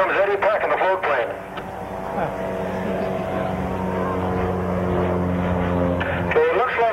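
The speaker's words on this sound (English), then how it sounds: "here comes Eddie packing the float plane." A float plane at the 1982 Stanley Fly-In passes by with a loud, continuous propeller-engine drone that holds strong, swelling slightly toward the end of the pass.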